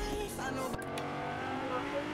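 A car driving in the Fortnite video game, its engine humming steadily at a low level with a few brief knocks, while a person talks over it.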